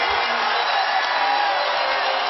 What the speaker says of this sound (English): Standing ovation from the sellout crowd as the Wizards have defeated the Cavaliers 109-101